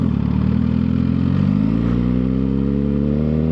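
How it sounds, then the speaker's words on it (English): A Suzuki GSX-R1000R motorcycle engine idles loud and close, a continuous throbbing drone that dips and gurgles as the clutch slips out of the friction zone, with no voices over it. "I don't know if you guys heard it right there, but it did a little gurgle"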